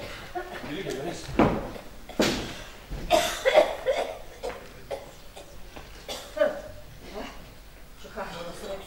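An actor coughs on stage during a Turkish theatre performance of a play adapted from One Flew Over the Cuckoo's Nest, several sharp bursts spaced across the stretch, mixed with stage thumps and voices in the room.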